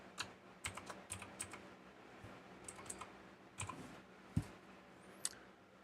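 Computer keyboard keys tapped in short irregular bursts while playing Legacy of Kain: Soul Reaver on PC, crisp close clicks that come and go over quiet room hiss.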